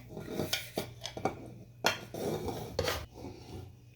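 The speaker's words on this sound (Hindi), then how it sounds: "ये थोड़ा सा मैं डिश आउट करके आप लोगों को दिखा दूँ।" Metal utensils clatter and scrape against a pot while mutton pulao is served out, with several sharp clinks and rasping scoops over about four seconds, fairly close and with no talking.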